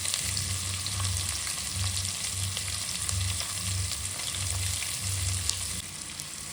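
Sliced onions frying in oil in a pan for spicy donne chicken biryani, a steady close sizzle with a soft, regular pulsing crackle throughout and no talking.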